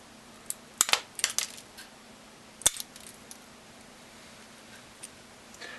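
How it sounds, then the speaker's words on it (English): Side cutters pry a small metal washer off the speedometer pointer centerpiece of a 1939-47 Dodge truck gauge, giving a few sharp metallic clicks and ticks close up over a quiet background. "Lift the washer away from the centerpiece using a pair of side cutters."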